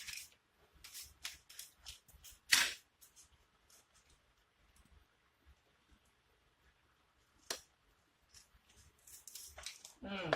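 Scissors or a blade cutting the back side of a cardboard tile template: sharp, irregular snips and crunches in quick clusters, a few louder ones standing out, separated by near-silent gaps.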